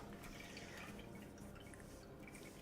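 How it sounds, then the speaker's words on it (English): A paintbrush swished and rinsed in a small pot of water, giving faint, close, continuous sloshing with little drips and taps. "I have to give this brush a little bit of a rinse."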